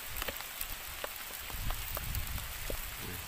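Steady rainfall on a rubber tree plantation, a soft even wash of patter with occasional distinct drops and faint low rumbles underneath.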